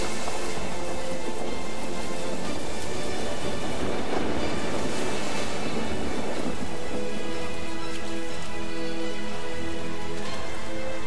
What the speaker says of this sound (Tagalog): walang tigil sa ulan, malakas na ulan